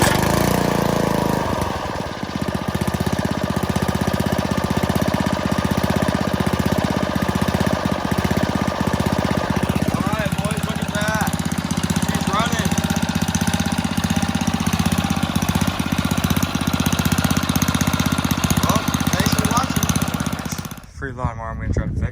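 A 5 horsepower MTD 21-inch lawn mower engine fires up and runs with a loud, rough, knocking chug close by, holding steady for most of the stretch before cutting out abruptly near the end.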